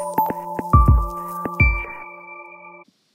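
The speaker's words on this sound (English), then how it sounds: "You will hear the screen reader launch" A short electronic chime sequence from ChromeVox launching on a Chromebook: quick tonal beeps followed by a couple of soft low thumps and a sustained synthetic tone that fades out.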